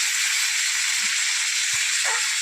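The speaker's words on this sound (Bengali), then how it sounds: "এই যে মাছটা এখন উল্টায় দিচ্ছি হালকা করে" Pomfret fish fries in a wok, with a loud, even hiss of sizzling oil and a few faint soft knocks as the fish is turned.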